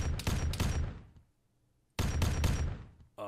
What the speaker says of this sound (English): let's fire this gun off